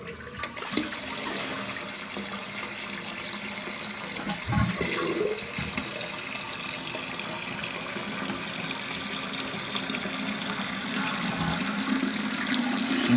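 A toilet tank refills after a new fill valve is installed: a steady rush of running water hisses throughout, close and fairly loud, with a brief gurgle and knock near the start and no speech.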